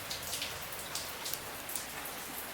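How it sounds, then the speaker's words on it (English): Rain falls steadily outside as a dense, even hiss with scattered brighter drips and taps on surfaces, continuous and fairly close, with no voices. "So I figured it's raining."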